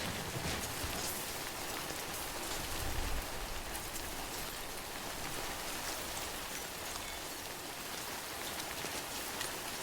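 In the video game Death Stranding, rain falls steadily on an open field, a constant dense hiss of drops throughout without pause.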